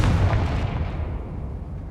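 Confringo fire spell exploding in Hogwarts Legacy, a single heavy booming blast that hits at once and then rumbles and fades out over about two seconds.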